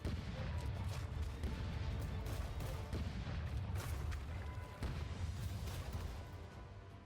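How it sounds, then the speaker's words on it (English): Big cannon fire in a video game rumbles as a steady barrage of deep booms and crashing blasts, loud and continuous before fading slightly at the end. "The big cannon!"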